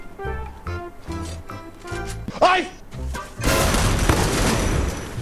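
The Trogon skinned gun in a shooting video game fires a series of rapid sharp shots, ending in a dense sustained burst of gunfire, with someone talking over the early shots.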